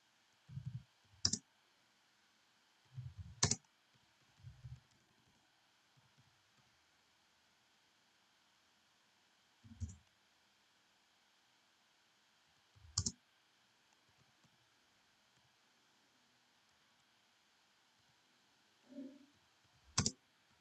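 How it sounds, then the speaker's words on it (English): Sparse computer keyboard typing in a quiet room, about half a dozen isolated clicks and short bursts of keystrokes spread out with pauses between them, faint against a low steady hiss. "I will type"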